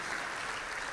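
Brief, quiet patter of audience clapping at an awards gala for a company competition, steady and low throughout the short moment.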